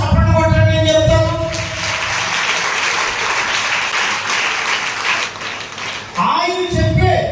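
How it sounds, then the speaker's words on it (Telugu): A church congregation claps loudly together during a Sunday sermon, a dense sustained burst of applause lasting several seconds, with the preacher's voice heard before and after. "చప్పట్లు కొట్టండి, నేను చెప్తాను."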